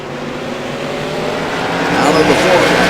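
Race cars roar around Langley Speedway in a CRA special event, a dense engine drone swelling slightly louder over a few seconds as the pack comes off the final turn, with commentary running over it.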